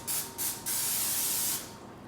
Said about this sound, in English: If you hold it too close, sometimes you get really concentrated sprays of oil.